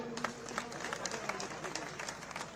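At an outdoor political rally and road show, a crowd claps to welcome Anil Firojiya, giving steady, rhythmic group clapping under a speaker's amplified voice.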